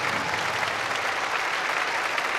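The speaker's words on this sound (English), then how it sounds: "As Elena Romanova applauds her student" A large arena crowd at the Rostelecom Cup 2021 applauds a figure skater after her women's free skate. The clapping is a steady, dense roar that fills the whole stretch, with no pauses.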